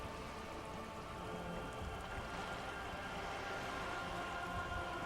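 Steady rain pours in the video game Disco Elysium, a dense, even hiss of falling water that continues unbroken throughout with no other sounds over it.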